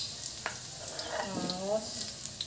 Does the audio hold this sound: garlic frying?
yes